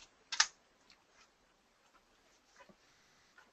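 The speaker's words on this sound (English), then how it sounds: "it seems like I have trouble typing the password" A password being typed on a computer keyboard: one sharp keystroke stands out, followed by a few faint, scattered clicks in a quiet room.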